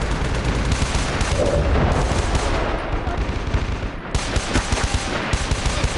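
Sustained enemy gunfire in the tactical shooter game Socom 4, a dense, continuous crackle of rapid shots and bursts, loud and close, with brief dips before the firing resumes.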